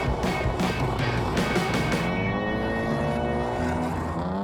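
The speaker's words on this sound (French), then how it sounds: "C'est impressionnant, la drift." A drift car sliding through a turn at speed, its engine roaring loud and continuous with a rising, wavering pitch as it holds the slide.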